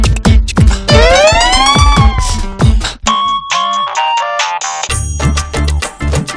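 Phone ringtone playing a bright electronic melody, loud and continuous, with a shifting tune and a brief lower buzzy segment midway.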